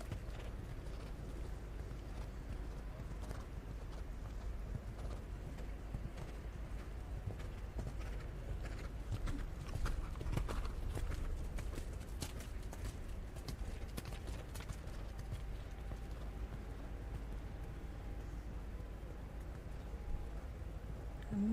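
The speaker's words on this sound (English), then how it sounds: "A much better canter loop on the second time." A horse canters through a loop in an outdoor dressage arena at a junior eventing European championship, its steady hoofbeats soft and distant under open-air wind and ambient noise for the whole stretch.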